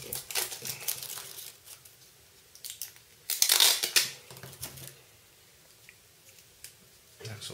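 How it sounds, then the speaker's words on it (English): Plastic protective film being peeled and crinkled off a new BlackBerry Curve 9360 handset: close, dry crackling rustles in short bursts, with a louder, denser stretch near the middle and quiet gaps between. "So we'll take all the plastic bits off the device."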